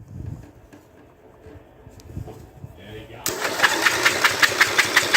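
An MTD 12/38 lawn tractor engine is cranked over, beginning with quiet fumbling and clicks before a loud, steady, rhythmic churning of the starter takes over for the last couple of seconds.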